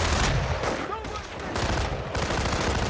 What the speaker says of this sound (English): Taking fire! The cowboys are shooting at us!